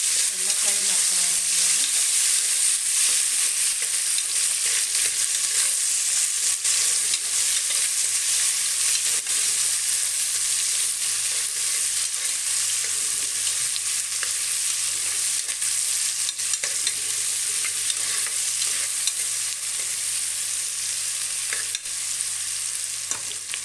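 Chopped onions frying in a pan for vegetable pulao, a loud continuous sizzle with constant stirring scrapes running throughout at close range, no speech.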